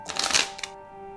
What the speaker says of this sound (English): Maybe shuffle again, Dr. Powell.